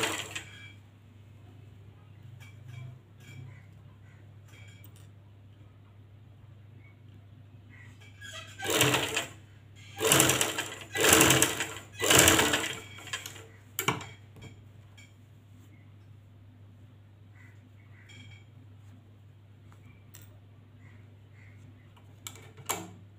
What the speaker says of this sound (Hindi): अब उसी सिलाई के ऊपर दोबारा सिलाई लगाऊंगी ताकि ये फिक्स हो जाए इसी जगह पे